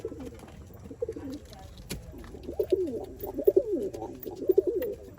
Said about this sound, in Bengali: পায়রাগুলো দেখছেন?